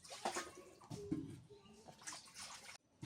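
Tap water runs and splashes while a wok is rinsed in a home kitchen, a steady wash of flowing water with brief clatters, fairly close.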